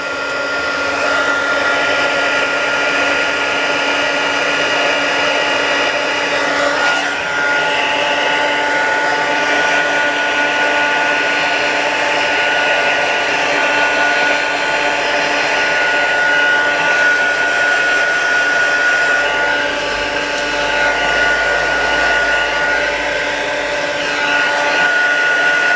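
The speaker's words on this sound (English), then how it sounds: "So just with my heat gun, just dry this off" A heat gun blows steadily on wet watercolour paper, a loud, continuous whirring rush of air that holds an even pitch the whole time with no pauses and no voices.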